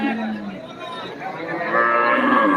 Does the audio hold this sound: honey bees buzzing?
no